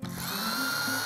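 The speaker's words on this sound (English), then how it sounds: "we're going to drill three pilot holes" A power drill boring pilot holes for mounting a spotlight, a short close-up whir with a ratcheting mechanical edge that runs steadily throughout.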